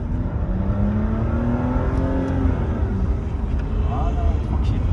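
A BMW M2 drives with a steady engine drone whose pitch slowly rises as it accelerates, heard from inside the car, with a voice talking over it.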